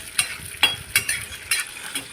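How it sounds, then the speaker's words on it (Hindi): Peanuts frying in hot peanut oil in a wok for a homemade sago snack, with a steady bright sizzle broken by five regular scraping stirs roughly every half second, close and fairly loud with no talking. "मूंगफली डालकर अब इसमें फ्राई कर रहे हैं।"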